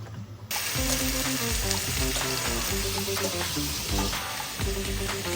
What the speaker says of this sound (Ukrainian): курочку смажити